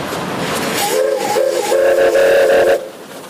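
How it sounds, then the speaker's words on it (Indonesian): A green Thomas toy train gives an electronic train whistle in several short, repeated bursts at close range, loud and without talk. "ternyata ini kereta api Thomas warna hijau."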